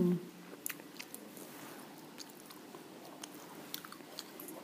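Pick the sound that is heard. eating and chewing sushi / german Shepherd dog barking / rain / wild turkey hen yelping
eating and chewing sushi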